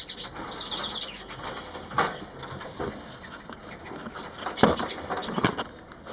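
A canary flutters its wings in bursts of soft, rapid flapping and patter as it is returned to a cage, with a few faint chirps mixed in; the sounds are close and fairly quiet.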